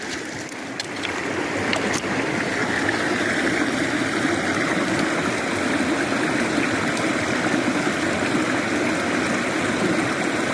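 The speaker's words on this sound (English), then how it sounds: "Let's go ahead and rinse that off." Water streams and splashes steadily over a chalcedony crevice agate as it is rinsed outdoors, a continuous close wash with no talking.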